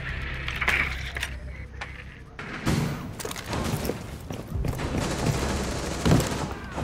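Gunfire bursts through a Rainbow Six Siege team deathmatch on the Oregon map, with sharp shots and rapid volleys cracking repeatedly over muffled background game noise.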